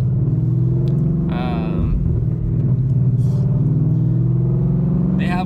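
Ford Mustang S550 fitted with a McLeod clutch and Griptec pulley driving normally on the road, a steady loud low engine drone inside the cabin, with someone talking over it throughout.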